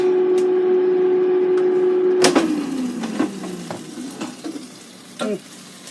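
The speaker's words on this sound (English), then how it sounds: "Hear that sizzle? Just like deep fried." A COSORI 3.7-quart air fryer's steady hum cuts off with a clunk, leaving a soft crackling sizzle from beer-batter chicken with a few light clinks and knocks.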